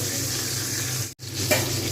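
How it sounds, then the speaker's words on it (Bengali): Fish frying in hot oil in a home kitchen, with a steady close sizzle and spatter that stops briefly and then resumes, plus a faint clink near the end. "ভীষণভাবে ভয় লাগে মাছ ভাজতে গিয়ে চোখে মুখে ছিটকে আসছে বলে"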